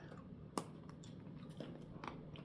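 A bite into a MrBeast original dark chocolate bar, giving one sharp snap followed by a few soft, close crunching chews, quiet and without talk.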